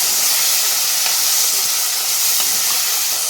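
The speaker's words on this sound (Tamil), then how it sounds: "இந்த தட்டி வச்ச சுண்டைக்காயை சேர்த்துக்கலாம். அதை ஒரு 2 நிமிஷம் வதக்கி விடணும்." Crushed green turkey berries sautéing with onions in a pan, a steady loud sizzling hiss that runs unbroken throughout, with faint stirring scrapes beneath.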